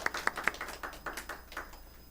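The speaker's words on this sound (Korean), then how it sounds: "우리 함께 격려하는 박수 치고 자리에 앉으십시오." A congregation at a Korean church Sunday worship service claps in encouragement, a short scattered patter of hands that starts with a few sharp claps and fades quickly.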